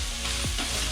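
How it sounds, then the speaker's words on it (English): Vegetables and kimchi instant ramen noodles stir-fry in a pan with a close, loud, continuous sizzle and brief scraping stirs. "just keep stir frying until the vegetables are cooked"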